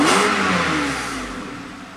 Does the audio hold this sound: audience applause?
no